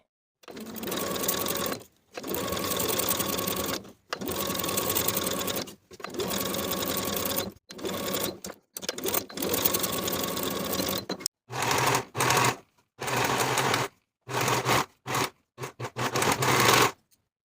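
A sewing machine stitches around the armhole of a blouse with a 3/8 inch seam allowance, running in close, rapid bursts of one to two seconds separated by short pauses, with later runs growing shorter and choppier.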